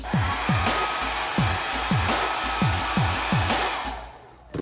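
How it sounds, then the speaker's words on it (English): A hairdryer blows steadily on a 3D-printed wind-powered car, a continuous loud whoosh with a faint rhythmic whirring pulse repeating about every half second, then it fades near the end. "Let's test it with a hairdryer to see if it performs better than the previous version."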